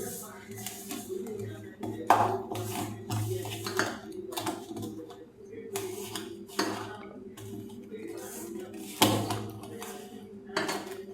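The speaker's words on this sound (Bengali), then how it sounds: "একটু একটু জল দিয়ে আমি ময়দাটাকে মেখে নেব" Flour dough for crisp lotus-shaped nimki is kneaded by hand in a bowl as water is added a little at a time, giving close, repeated soft slaps, scrapes and light clinks in uneven bursts over a low background hum.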